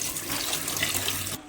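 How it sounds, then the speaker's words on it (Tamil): Raw chicken being washed under running water in a home kitchen, a steady splashing stream from a tap that cuts off abruptly near the end, with no talking. "நல்லா ஒரு 2-3 டைம் வாஷ் பண்ணி எடுத்துக்கோங்க."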